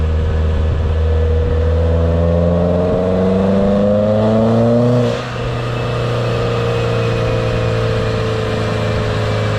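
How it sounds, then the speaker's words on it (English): Straight-piped 2006 Subaru WRX with an external wastegate pulling hard on a dyno, a loud sustained engine drone with rising harmonics that climbs for about five seconds, then drops sharply as the throttle lifts and settles into a steady roar. "we're about to hear the external wastegate"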